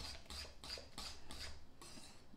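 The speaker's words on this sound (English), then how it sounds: "I'm just stirring it up in there good." Repeated clinks and scrapes of a utensil stirring grape jelly in a container, about five quick, evenly spaced strokes then a softer pause, close and fairly quiet with no voice.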